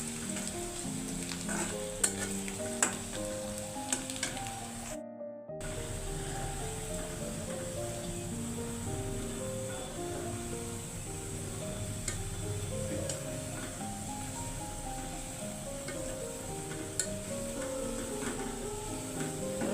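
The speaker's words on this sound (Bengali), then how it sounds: "এই যে লাউ ডাল বাগার দিয়ে দিব এখন" Garlic tempering hits a pot of bottle gourd lentil dal with a steady, loud, close sizzle and crackle that fills the whole stretch, broken only by a brief gap.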